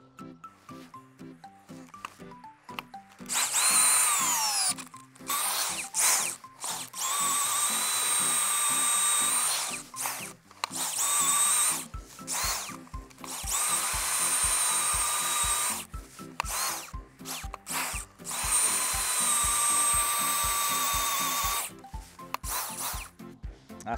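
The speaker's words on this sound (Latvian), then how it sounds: "Urpsim nākošo." An earth auger drills a post hole in the ground, its motor whining loudly in repeated bursts with short stops between, close by and without talk.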